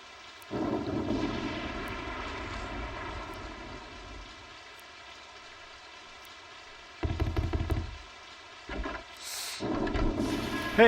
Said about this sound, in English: This is getting to be quite a storm.